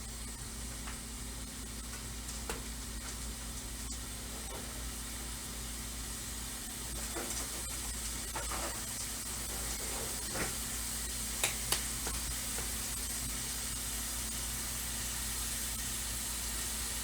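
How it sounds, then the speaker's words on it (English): Spicy burger patties, with cheese slices between them, sizzle in a pan, a steady broad hiss with scattered small pops and crackles running throughout, no voices. "You can hear it start to sizzle now."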